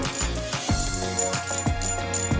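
The drag on an ultralight Korean spinning reel ratchets out in a fast, loud run of crisp metallic clicks, steady and close, with no voices.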